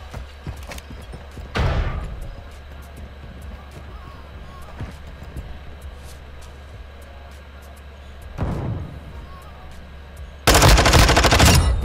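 Video game gunfire from an SMG and a sniper rifle. Two loud separate shots ring out several seconds apart over a quiet background, then a sustained rapid burst closes the stretch.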